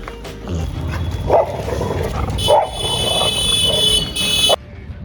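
A dog barks outdoors in three separate sharp barks spaced a second or so apart, over steady street background noise, with a high whine running underneath near the end.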